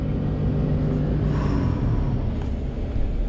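A 2021 Ford F150 truck does a burnout, a loud, close, continuous engine rumble with tire roar that swells slightly midway and then holds steady.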